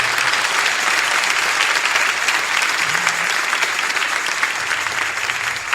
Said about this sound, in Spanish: Démosle un aplauso al Señor por su beneficencia.